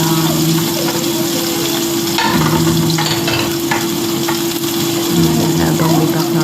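Mushrooms sauté in olive oil in a hot pan, giving a steady close sizzle and frying hiss with occasional stirring scrapes, alongside a continuous background hum.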